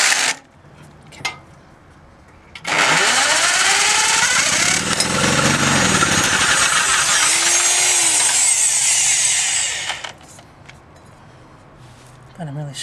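During engine work on a biogas system, a tool strains hard on a stripped lug, making a loud harsh grinding rasp that holds for about seven seconds, with brief voices and clanks before and after.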